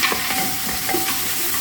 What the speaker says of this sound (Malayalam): കുക്കറിലോട്ട് ആവശ്യത്തിനുള്ള എണ്ണ ഒഴിക്കുന്നു